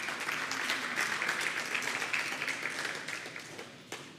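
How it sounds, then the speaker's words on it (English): Audience applause at a school graduation ceremony for the Class of 2023, a steady dense wash of clapping that holds for several seconds and tapers near the end, moderately loud and with no talk over it. "Yes, you can clap for that."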